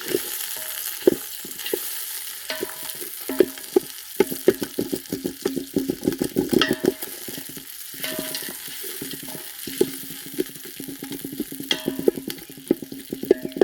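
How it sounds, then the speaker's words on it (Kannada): Onions fry in a pan over a farm cooking fire for egg biryani, giving a continuous crackling sizzle under quick, repeated scrapes and taps of a spoon mixing them. "ನೀಟಾಗಿ ಮಿಕ್ಸ್ ಮಾಡಿದ ಮೇಲೆ ಫ್ರೈ ಆಗಬೇಕು ಆನಿಯನ್ನು."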